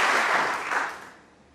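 Snooker crowd at a Champion of Champions final applauding, a dense burst of clapping that fades out over about a second and a half.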